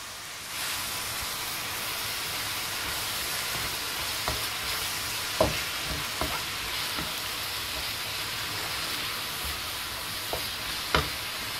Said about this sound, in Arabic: هادشي غادي نسمو بالثومه باش تدخل فيه داك الثومه مزيان